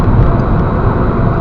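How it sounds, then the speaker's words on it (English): A 2003 Ford Focus Zetec 1.6 produces a steady, loud broadband road and engine roar from inside the cabin while driving, with no talk. "A lot of noise coming from the car."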